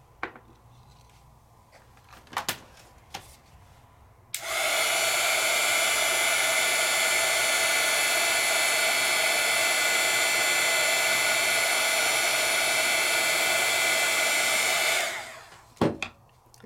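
An embossing heat tool blows a loud, steady whirring hiss for about eleven seconds, starting and stopping abruptly, with quiet handling sounds before and after.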